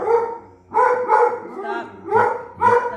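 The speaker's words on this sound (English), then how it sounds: "Hey, dogs, knock it off." Several dogs bark in bursts at a passerby outside a window, loud and close, with short pauses between volleys and a person's voice mixed in.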